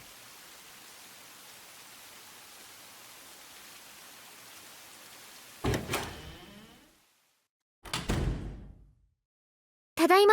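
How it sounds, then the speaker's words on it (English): Steady, soft rain hisses in a Tsukihime visual novel scene, a constant even wash that suddenly gives way to a couple of louder door-like thuds and clatters separated by silence. "the rain ASMR is back"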